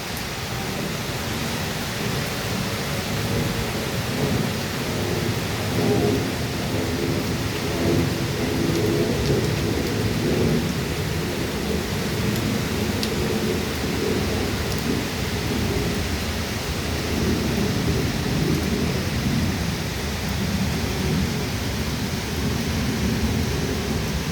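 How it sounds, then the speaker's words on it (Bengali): Heavy, steady monsoon rain pours over Dhaka city with a dense, continuous roar and a low rumble underneath, unbroken for the whole stretch with no voices. "টানা বৃষ্টি চলছে"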